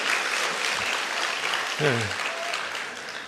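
A church congregation claps together for a member's leap-year birthday, a steady broadband patter of applause filling the clip with a brief voice rising through it near the end.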